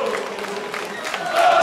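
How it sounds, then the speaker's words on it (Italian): Crowd applause and cheering on a town square welcoming a football club's players at a season presentation, a soft wash of clapping that swells louder toward the end. "accogliamoli con un applauso"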